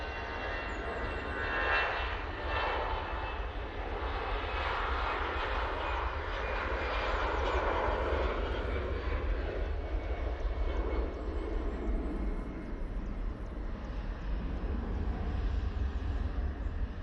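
A Hainan Airlines jet airliner on short final to land at Manchester Airport roars steadily overhead, a broad, loud engine rumble that swells and holds with no talk.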